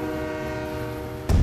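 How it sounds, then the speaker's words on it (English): A freight train on mountain rails in West Virginia sounds a sustained, tonal horn over a low rumble, ending in a sudden louder burst of noise. "Freight trains still ride these rails"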